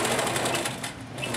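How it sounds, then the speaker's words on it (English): A sewing machine with its stitch regulator engaged stitches a line along a ruler during applique quilting, giving a steady, close, continuous rapid whir with no talking. "And I'll stitch up that line."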